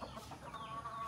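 Native chickens cluck softly and repeatedly in a backyard flock, a low, steady murmur of calls with no voices.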